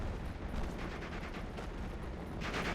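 Panzer II tanks firing in the WWII strategy game Steel Division make a constant roar of mixed battle noise, with dense overlapping shots and rumbling blasts at a steady, fairly loud level and no voices.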